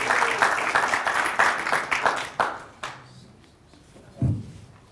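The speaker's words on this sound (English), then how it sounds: "Big clap." Crowd at a high school Hall of Fame ceremony claps in a burst of applause that thins out and fades within about three seconds, followed by a single low thump.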